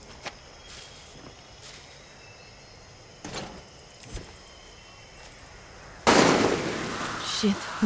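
Gunfire in the video game Far Cry 6: a few sharp, distant cracks over quiet ambience, followed by a sudden, louder burst of noisy shots that continues to the end.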